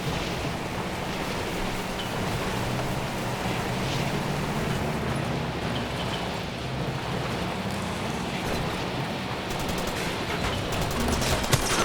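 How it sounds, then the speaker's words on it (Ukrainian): Dense, continuous gunfire from the video game Far Cry 2 crackles through a steady wash of noise, with sharper bursts of shots near the end; no voices. "Хто там стріляє?"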